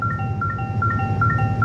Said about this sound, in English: I'm going to let you guys listen to this beeping for a while